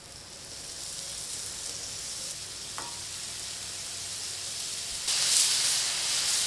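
Mexican-style seasoned burger meat fries on a griddle set to high, a steady close hiss and sizzle that swells louder near the end, with no talking.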